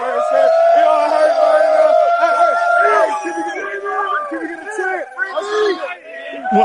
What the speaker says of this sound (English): The crowd is crazy right now